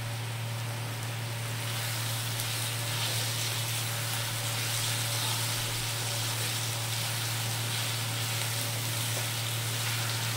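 Tomatoes sizzle steadily in a hot pan for khichuri, a continuous, even hiss of frying that holds close and fairly loud throughout, with no voices.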